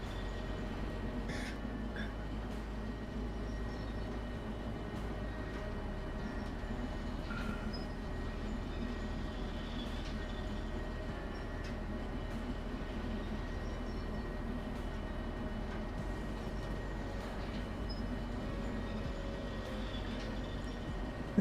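A diesel locomotive in Derail Valley runs steadily, a continuous low engine rumble with rolling wheel noise and occasional faint clanks, unchanging throughout.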